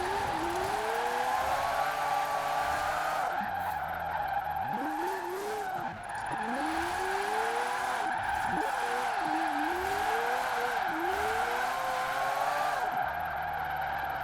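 A Mazda Cosmo rotary engine in Forza Horizon 4 revs up and down through repeated gear changes, its buzzy whine rising and falling in waves, with tire skids and squeals over a steady game backdrop.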